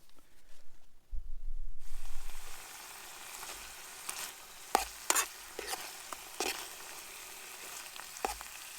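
Wild asparagus picked among olive trees sizzles softly in local olive oil as it is stirred, with a burst of frying noise early on and then scattered scrapes and clinks of the utensil against the pan, near and clear.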